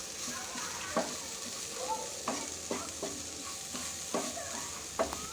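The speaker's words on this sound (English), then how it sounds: "Mix it well." A spoon stirs a pepper and garam masala mixture in a hot pan, scraping and tapping every second or so over a steady soft sizzle, close by with no voices.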